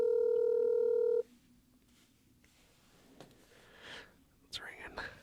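A phone call starts with a steady electronic dial tone of about a second, then quiet clicks and a faint ringback tone, with soft whispered voices close by.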